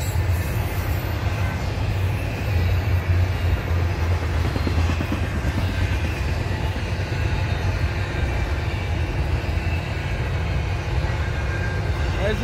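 An intermodal freight train rolls past close by with a loud, continuous rumble and rattling wagon noise that holds steady throughout, with occasional voices underneath.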